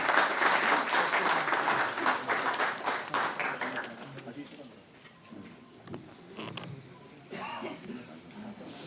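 Loud audience applause greets the chief minister at a Delhi tourism app launch event, fading after a few seconds into murmuring hall noise and a voice.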